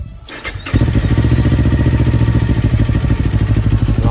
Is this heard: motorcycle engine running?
yes